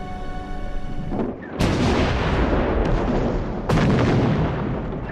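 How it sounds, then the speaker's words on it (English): Heavy artillery fire in a war documentary about Serbian forces shelling Bulgarian positions in World War I: two loud, deep booms with long rumbling tails over a continuous roar of bombardment. "The heavy artillery made the Bulgarians crawl deep into their shelters."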